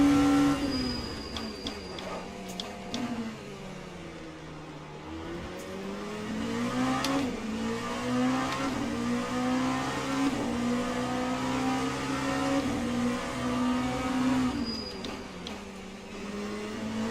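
Race car engines in the sim racing game Le Mans Ultimate, multiclass cars including a BMW Hypercar at Fuji, droning steadily with rising and falling pitch through a braking zone, loud and continuous with no talk.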